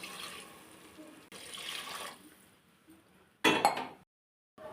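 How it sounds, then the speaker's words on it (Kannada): Hot water poured from a glass into mutton cooking in a pot, a short splashing pour after some quieter kitchen handling and a faint clink, ending abruptly. "ಒಂದೆರಡು ಲೋಟ ಬಿಸಿನೀರು ಸೇರಿಸ್ಕೊಂಡು"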